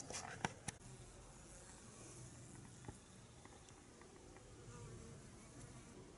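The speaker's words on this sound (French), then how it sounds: "Ce sont uniquement quelques abeilles qui sortent." A few honeybees leaving their hive in winter at about 12 degrees buzz softly and steadily at close range, with a few sharp taps early on and faint scattered ticks over a quiet background.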